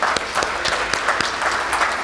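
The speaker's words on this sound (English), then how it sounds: "Let me give you a round of applause." Audience applause at a veterans' salute event, a steady wash of clapping hands filling the room at close range with no voices over it.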